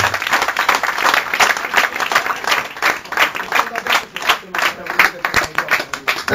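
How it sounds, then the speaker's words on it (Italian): Audience at an in-store fan event at a Fnac shop claps steadily in sustained applause, a close, loud, even patter of many hands with no talk over it. "un applauso."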